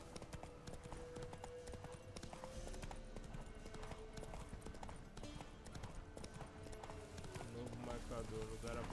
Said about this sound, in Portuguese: É pro cavalo andar em linha reta